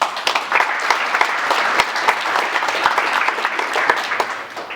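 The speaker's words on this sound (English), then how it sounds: "we must give him a big round of applause" Audience applause at a land summit gathering, a steady roomful of clapping with distinct sharp claps standing out, sustained for nearly five seconds.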